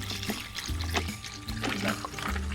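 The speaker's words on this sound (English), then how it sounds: "And then we're just gonna pour in the" Milk poured into a glass packed with ice for a pink milk drink, a short gurgling, splashing pour with light clinks from the ice, close and fairly quiet.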